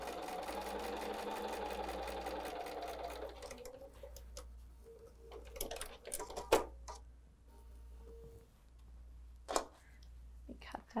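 A sewing machine stitches quilt block fabric for a Leaf or Bear Paw block in a steady close whir lasting several seconds, then stops, leaving scattered handling clicks and soft taps.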